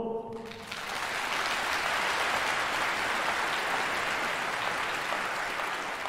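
A concert audience for a Chinese orchestra at Beijing's National Center for the Performing Arts bursts into loud, sustained applause after a brief tonal opening, a thick, even wash of clapping from a large hall that holds steady to the end.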